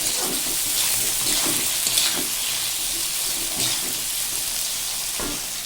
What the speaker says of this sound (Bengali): বেগুন ছোট ছোটো বেগুন দিয়ে আমি করবো দেখতেই পাচ্ছ ছোট বেগুন ছোট মাছ লবণ দিয়ে আমি এটাকে ভেজে নিলাম